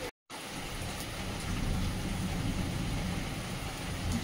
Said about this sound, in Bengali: জল পেয়ে গেছে প্রচন্ড জোর, মানে জল বৃষ্টি ঝড়।